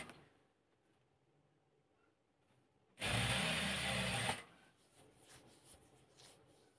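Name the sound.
sewing a sofa chair cover seam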